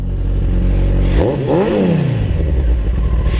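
Kawasaki ZX-14R motorcycle, a 2014 model, its engine revving up sharply and falling back to a steady rumble, loud and close with no talk.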